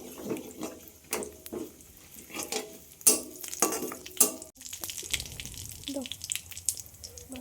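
Cumin seeds, dried red chillies and nigella seeds are stirred in hot oil in a pan. The sound is a light, uneven sizzle with repeated scraping and clinking of a spoon against the metal, plus some faint background clatter.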